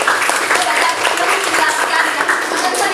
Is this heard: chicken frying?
no